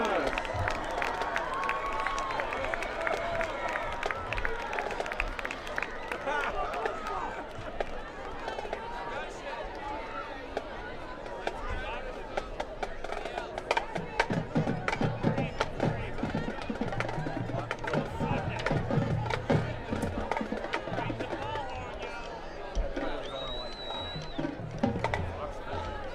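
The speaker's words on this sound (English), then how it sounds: "another round of applause for the Wayne Hills Patriot Marching Band" A crowd in a high school stadium applauds and cheers for the Wayne Hills Patriot Marching Band, with a steady patter of clapping and scattered shouts that swell midway. An announcer's voice talks over it throughout.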